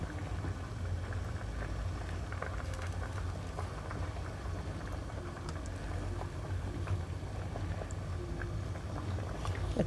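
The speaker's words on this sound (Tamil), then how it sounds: "மீன் குழம்பு பாருங்க நல்லா கொதிக்குது." A pot of fish curry bubbles and simmers steadily, a dense continuous burble of boiling liquid at moderate volume with no voices.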